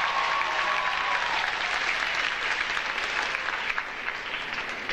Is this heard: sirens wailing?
no